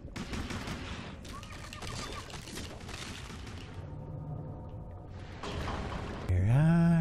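Bursts of gunfire in the video game Depth, rapid volleys and fusillades crackling close and loud, with a brief lull before a final louder burst and a rising electronic tone at the end.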